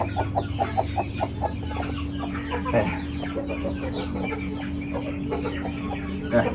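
Hens cluck steadily on a rooftop, a repeated close series of short calls over a constant low hum, with a louder burst near the middle.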